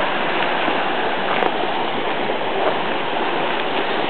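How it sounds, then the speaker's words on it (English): A waterfall pours steadily as a loud, continuous broadband rush of water flowing over rock, close by and unchanging throughout with no voices. "Go down and get closer to the waterfall now"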